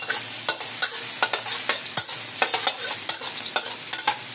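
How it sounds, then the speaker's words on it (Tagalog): Garlic sautéing in a pan for chicken afritada, a loud continuous sizzle broken by rapid, rhythmic scraping strokes of a spatula, close up and without voices. "Makagasa tayo ng bawang."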